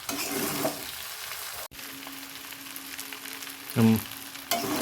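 Chow mein with vegetables, potato and egg frying and being stirred in a pan, a steady close sizzle broken by a few scraping stirs and a brief louder clatter near the end.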